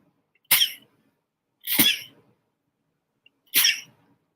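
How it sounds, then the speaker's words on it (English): Three sharp sneezes, loud and close, spaced apart by about a second of near silence, each a sudden explosive burst that quickly fades. "I'm going to sneeze."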